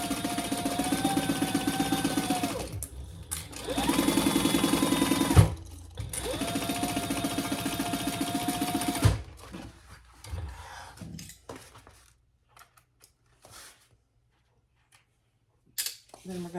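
Sewing machine stitching across the top seam of a slip pocket on a crossbody bag, three close, steady whirring bursts of several seconds each with brief pauses, then scattered handling clicks and near silence.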